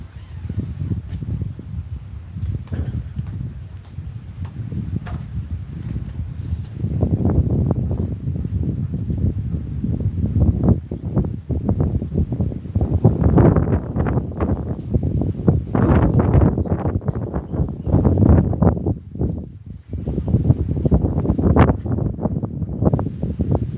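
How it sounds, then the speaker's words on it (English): Wind blows outdoors in gusty buffeting bursts against the microphone, low rumbling surges that rise and fall over a steady background, loud and close, with no voices. "The wind is going to settle down."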